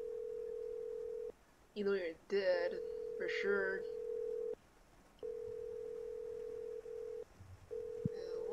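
In a horror video game, a steady electronic phone tone repeats in long bursts with short breaks, while a person talks over it partway through.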